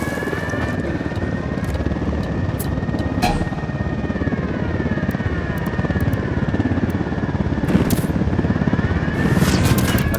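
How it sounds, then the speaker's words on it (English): A helicopter in Ghost Recon Wildlands, its rotor thrumming loud and steady throughout with a continuous whine, the sound holding close with faint sharp impacts in the background. "Helicopter inbound."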